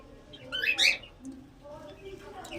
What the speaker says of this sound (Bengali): এখানে আমার ককটেলের দুজোড়া।